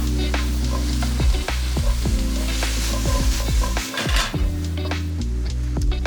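Ginger sizzles and fries in a hot pan for vegan fried rice, a steady close crackle with repeated stirring scrapes throughout and no talking.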